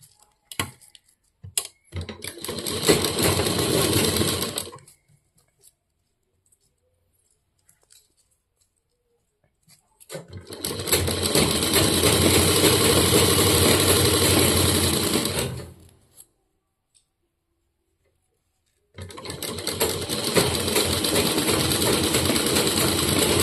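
A sewing machine stitches a half pant in three long runs of rapid, steady whirring, separated by quiet pauses with faint handling clicks.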